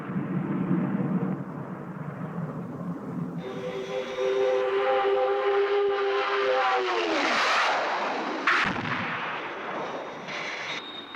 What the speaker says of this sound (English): Open fire and make sure you miss.